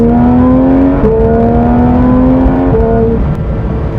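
A loud 2019 Porsche 911 GT3 RS engine holds a steady, high drone, its pitch stepping up and down as it revs through gears close by.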